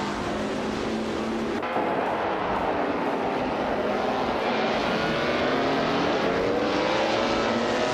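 Vintage race cars, led by a 1956 Lancia D50, roar in a racing video game at Hockenheimring Vintage GP, a steady loud engine drone with rising and falling pitch sweeping through the whole stretch.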